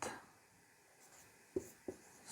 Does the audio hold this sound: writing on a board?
yes